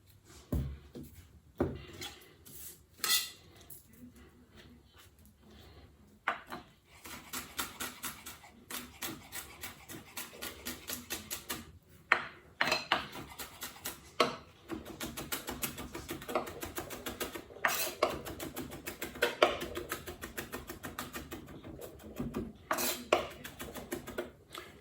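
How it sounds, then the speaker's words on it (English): Fresh garlic rasped on a standard box grater into a bowl for kimchi, with irregular scraping strokes and occasional sharp clinks of metal against the bowl, close and fairly quiet, with no talk. "I'm just gonna use the standard grater, get it all in this bowl"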